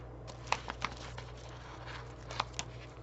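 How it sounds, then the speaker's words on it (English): Scissors cutting paper for a notebook insert cover, a few faint, close snips and crisp rustles spaced irregularly over a quiet, low background hum. "I think I can do it with the scissors. Just finish cutting that out."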